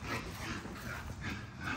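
A young, thickly built bull-type puppy whimpers and snuffles softly nearby, faint, rough, breathy sounds in a quiet room.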